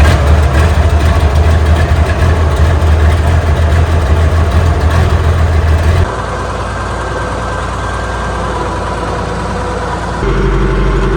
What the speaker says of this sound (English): So we'll run the tractor on the new tire, make sure everything's tightened down properly